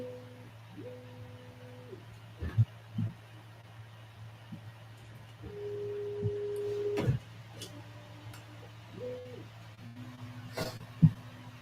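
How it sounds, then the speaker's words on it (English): Bambu Lab A1 3D printer running its vibration compensation routine, with a constant low motor hum under stepped, tonal stepper-motor whines that shift pitch, plus scattered clicks and ticks. "Then it's going to do the vibration compensation for about 7 minutes, and then it's going to do a 15-minute auto bed leveling."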